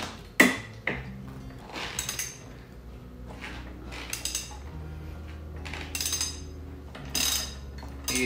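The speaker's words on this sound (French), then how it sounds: "On va s'assurer qu'on est du bon côté pour dévisser." Tools loosening a universal joint bolt on a Yamaha FJR 1300 motorcycle give a run of close metallic clicks, ratcheting and clanks in irregular bursts over a steady low hum, with no talking.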